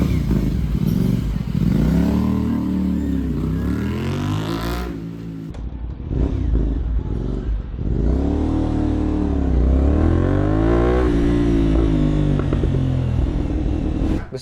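A 450NK motorcycle fitted with an SC Project slip-on exhaust roars loudly on a road test, revving up through rising sweeps with a raspy, rattling note, briefly dropping off between pulls before accelerating hard again.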